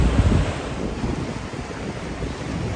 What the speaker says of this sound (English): the water just pouring through